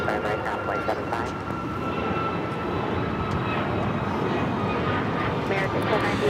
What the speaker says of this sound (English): This is All Nippon Airways Flight 6 coming in from Tokyo Narita on the 787-9 Dreamliner.